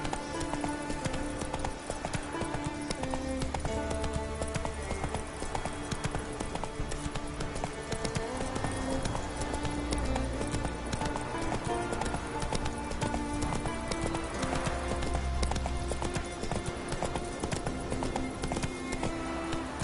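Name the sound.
Roach the horse galloping, hooves clip-clopping, from video game The Witcher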